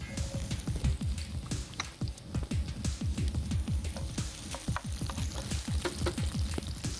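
Garlic and chopped ginger crackle and sizzle in hot oil in a pan, with a steady stream of quick pops and spits throughout and no talking.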